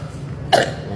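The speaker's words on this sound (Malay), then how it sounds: "Batuk." A single short, breathy cough bursts out once in a quiet room, close to the microphone, with low background hum and no talk.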